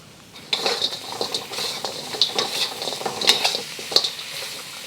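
Salt and pepper pork ribs, already fried, tossed with greens in a wok off the heat: rapid metallic scraping and clinking of a utensil against the pan with light sizzling, continuous and close with no talk.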